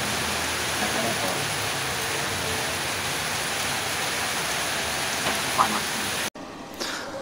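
Heavy rain pours at night during a stop at an electric motorcycle charging station in Probolinggo, a dense, steady hiss that holds evenly before cutting off abruptly near the end.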